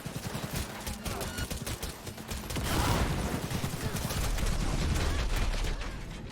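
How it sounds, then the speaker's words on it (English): Rapid gunfire in the video game Cyberpunk, bursts of shots crackling against each other, growing denser and louder midway and continuing as a sustained barrage. "Oh, I hear gunshots."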